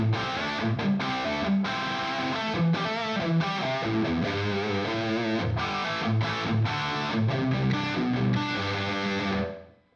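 Heavily distorted electric guitar played through a Revv G20 amp and captured by an SM57 microphone, dense chugging riffs and sustained chords running continuously at steady loudness before cutting off at the end.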